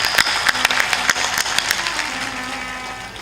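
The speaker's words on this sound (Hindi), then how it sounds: "इनके लिए एक बार ताली बजाते।" An audience applauds a guest at a Hindi spiritual discourse. The claps are loud and close, then fade over a few seconds while a sustained tone hums beneath them.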